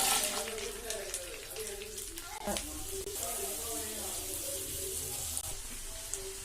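Chopped onions hit melted butter in a pan for a home-style béchamel macaroni, giving a steady broadband sizzle with faint stirring, close and moderately loud throughout.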